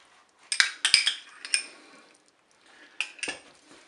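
A metal spoon scrapes and clinks against the pot of a Cookeo multicooker while lemon juice and crème fraîche are stirred into cooked pasta, a few sharp knocks and clatters in two short bursts, close and clear.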